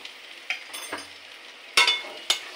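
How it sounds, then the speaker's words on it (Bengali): Potatoes fry in a pan as a spatula scrapes and stirs them, a soft background sizzle broken by four or five sharp, close scraping strokes at uneven intervals, with no talk. "আলুটা ভাজা ভাজা হয়ে যাচ্ছে, সুন্দর ভাজা হয়ে যাচ্ছে।"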